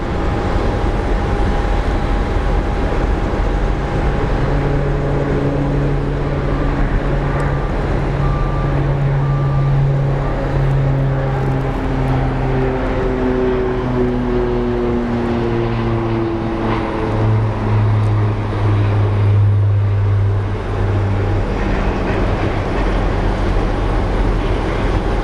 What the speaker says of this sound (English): We have a little King Air or whatever this is that's taking off right now